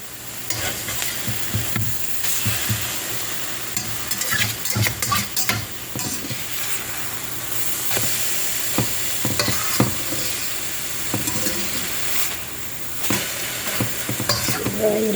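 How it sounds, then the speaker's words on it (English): French toast made with milk and eggs fries in a pan, a steady close sizzle broken by repeated scraping and stirring clicks, with no voices. "Fry it up a little more."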